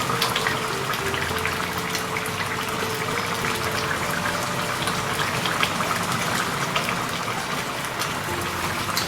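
Water poured into a pan of lamb bhuna curry with potatoes, a continuous steady gushing and bubbling wash that stays even and close for the whole stretch, with no talking.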